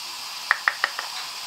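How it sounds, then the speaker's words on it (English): Measured spices frying in a pan for Nando's-style spiced chicken give a steady, bright sizzling hiss, while a spoon stirs them with four quick knocks against the pan. "So we'll give them a stir and let them sizzle away for a few minutes"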